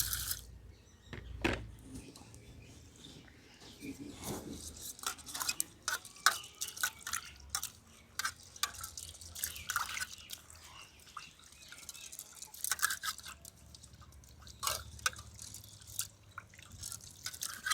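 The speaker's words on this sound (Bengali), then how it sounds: "ডালটাকে ধুয়ে নিচ্ছি ভালো করে" Lentils being washed by hand in a pot of water, with close, quiet sloshing, dripping and squishy rubbing sounds in an irregular, continuous rhythm and no talking.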